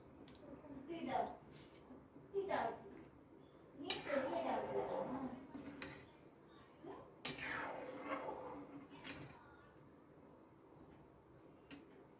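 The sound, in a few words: stirring wheat rava upma in a pan with a ladle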